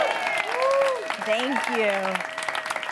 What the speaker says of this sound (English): Round of applause for Chris.